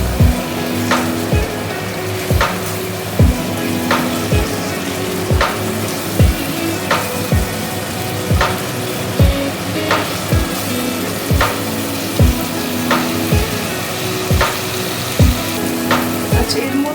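Methi chicken sizzles loudly in a pan over a raised gas flame, a dense steady frying hiss broken by regular sharp scraping stirs about once a second, close up with no talk.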